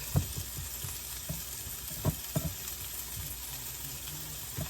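Butter sizzles and cooks down in a hot pan set a little higher than needed for a weeknight dinner, a steady close frying hiss broken by a few soft clicks and stirring taps.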